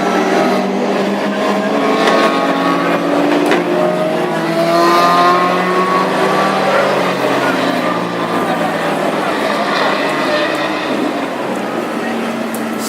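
Classic hot rod race cars, a Vauxhall among them, lap the oval at Ipswich with engines rising and falling in pitch as they pass. A commentator talks over the continuous roar.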